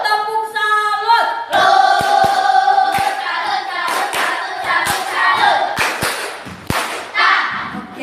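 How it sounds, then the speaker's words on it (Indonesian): Schoolchildren in a classroom chanting the 'tepuk salut' clapping routine together, with loud, sharp claps and slaps punctuating the group's sung voices in an uneven rhythm close by. "Tepuk salut."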